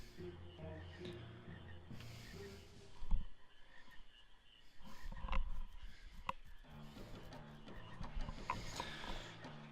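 Frogs croak in Final Fantasy IX, a mix of short repeated calls layered over looping game music with a few louder bursts, no voices.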